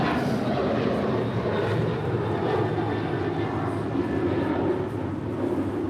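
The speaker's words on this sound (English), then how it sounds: "This is Alaska Airlines Flight 224 departing back to Liberia on a 737-900 ER in the One World livery" An Alaska Airlines Boeing 737-900ER in oneworld livery departs from LAX, its jet engines a steady, loud broadband roar that holds evenly throughout without any talk.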